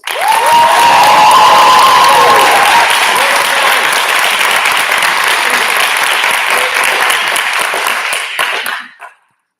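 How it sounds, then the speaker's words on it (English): A showcase audience at a spring awards event bursts into loud applause and cheering, with high whoops early on, a sustained roar of clapping, then an abrupt cutoff near the end. "please give Sal or Ronan a round of applause"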